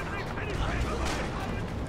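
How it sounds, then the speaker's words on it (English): Artillery fire in the Red Orchestra 2 World War II battle, with distant, rumbling shell blasts and scattered gunfire rolling under a steady din of combat noise. "Here comes artillery."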